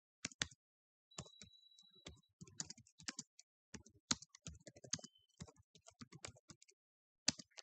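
Quick computer clicks and taps, a mouse and keys in irregular bursts of sharp ticks separated by short pauses, close and quiet with no talking.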